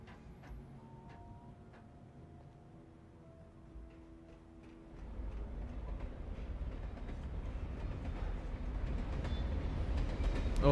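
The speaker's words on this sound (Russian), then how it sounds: "О, да, звук поезда." A train in the Alan Wake video game rumbles in from a quiet, faintly ticking scene, a low steady roar swelling midway and holding to the end.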